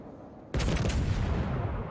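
An Italian battleship's guns fire in World of Warships, one sudden loud boom that bursts in after a quiet moment and rolls on in a heavy rumbling tail.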